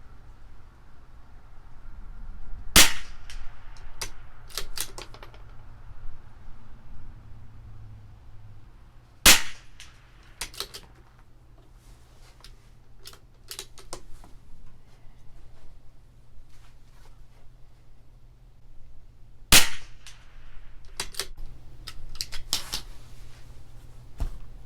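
Three sharp rifle shots from a CZ 457 LRP fired at a 100-yard target, spaced several seconds apart, loud and close, with quiet handling rustles and clicks between shots.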